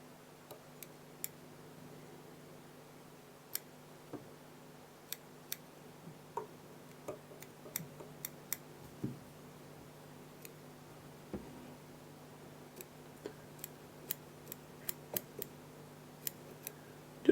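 Small scissors snip fibers while a mayfly nymph fly is being tied, giving sparse crisp clicks at irregular intervals, close and quiet over a low steady hum.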